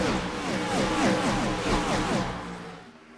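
Race car engines in an iRacing NASCAR video game at Michigan, several cars roaring past with rising and falling pitch as they sweep by, loud and continuous before fading at the end.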